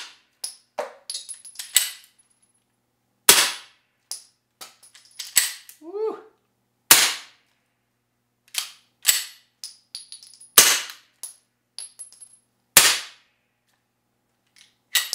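An AB Suppressor F-4L fires subsonic ammunition outdoors, giving a dozen or so muffled yet sharp cracks spaced irregularly between stretches of silence, with metallic clinks of the action and a faint voice briefly in between.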